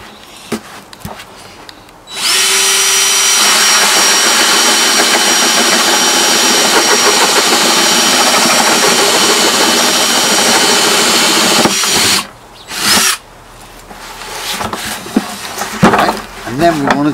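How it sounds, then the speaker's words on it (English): A power drill bores a 1-inch hole in a water butt being turned into a strawberry tub: a loud, steady grinding whine holds for about ten seconds, then a short second burst, with quieter handling noise around it. "So drill a hole. That's a 1-inch hole, as you can see."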